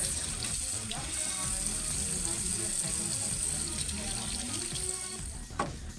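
Water runs from a tap into a sink for a mouth rinse after charcoal teeth whitening, a continuous close splash and rush lasting the whole stretch, with a brief knock near the end.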